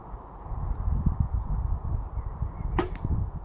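A field archery arrow hits a 3D pheasant target outdoors, one sharp, short thwack near the end of a quiet, breezy stretch of ambient outdoor noise.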